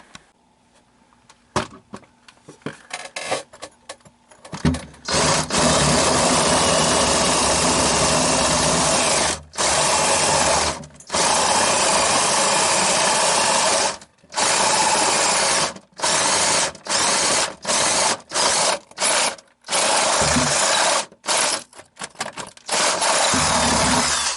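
A power drill bores into a brick wall in long loud bursts, stopping and starting repeatedly with brief pauses between, after a few quieter clicks at the start.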